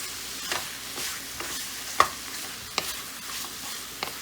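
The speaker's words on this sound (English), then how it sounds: "I'm gonna just give it a quick stir." A spoon stirs lamb curry ingredients in a pressure cooker, a low constant sizzle beneath a handful of sharp scraping strokes and clinks spaced irregularly over a few seconds.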